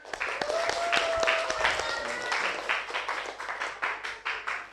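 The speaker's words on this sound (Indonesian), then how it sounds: "kasih tepuk tangan" A group of children in a classroom claps in a scattered burst that thins into a few uneven claps, with voices chattering in the background.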